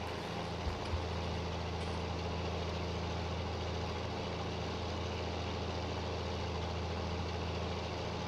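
An old Heston tractor in Farming Simulator 19 idles and runs at low throttle, a steady low engine drone with a constant hum that holds unchanged throughout, with no talking.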